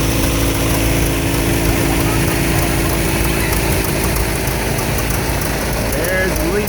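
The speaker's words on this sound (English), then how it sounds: "That's a more modern tractor than this one." An older tractor engine idling loudly and steadily up close at a summer carnival parade, a constant low rumble and vibration throughout with no change in pace.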